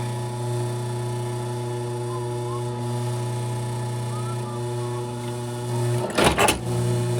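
A sewing machine stitches an alligator leather shoe with a steady, humming drone, close and even throughout, before a brief burst of louder rattling near the end.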